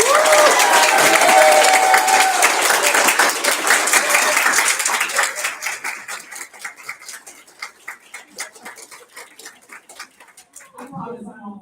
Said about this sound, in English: massive round of applause for Joy and Michelle.